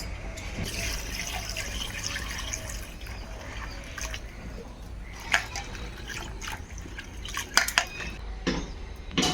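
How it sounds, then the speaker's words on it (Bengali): Cut Malabar spinach seeds are rinsed with water in a kitchen, giving steady dripping and trickling with a few sharper splashes and clinks near the end, close and moderately quiet. "এবার জল দিয়ে ধুয়ে নিতে"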